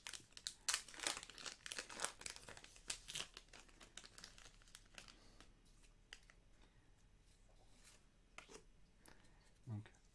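A Pokémon card booster pack is torn open and its foil wrapper crinkled, with sharp close crackles and rustles that thin out into quieter handling as a voice talks.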